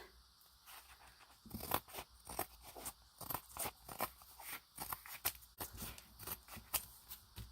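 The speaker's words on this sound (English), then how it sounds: "We'll just cut it by hand." Scissors cutting paper by hand in a craft session, a close series of crisp snipping crunches in an irregular rhythm, with quiet gaps between cuts and no talking.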